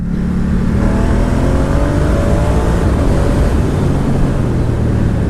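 A 2019 Ducati Diavel 1260S motorcycle accelerates hard on a test ride, its engine a loud, close, continuous roar rising steadily in pitch through the revs, with wind rush underneath.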